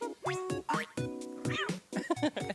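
Several cartoonish cat meows in a Nintendo video game level, a quick run of high, bouncy mews in varied pitches, loud and close, with playful game sound effects between them and no talk.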